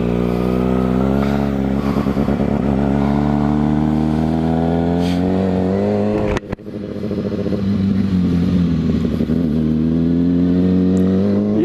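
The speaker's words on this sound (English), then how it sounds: "Let's actually start the bike up and do some riding" A 2013 Kawasaki ZX6R 636 sport motorcycle runs loud and close, its engine holding a steady rumble with repeated revs that rise and fall, dipping briefly midway before climbing again, with no talking.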